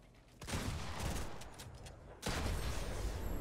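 Shotgun blasts from a pump-action weapon during a Fortnite firefight ring out in loud bursts, with a sharp report near the start and another heavy one about two-thirds through, over dense ongoing game noise.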